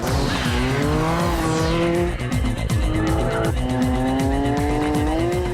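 A Weismann Roadster corners hard at speed, its engine revving up and down through gears while tyres squeal, loud and close throughout.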